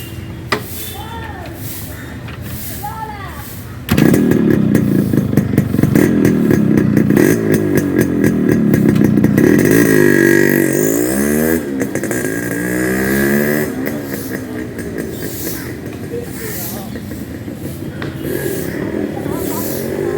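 A Yamaha RX100 motorcycle engine runs up close on a test ride, revving repeatedly with rising and falling pitch as it accelerates and eases off, loud and continuous.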